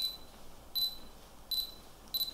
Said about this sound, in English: I hope you can hear that beep.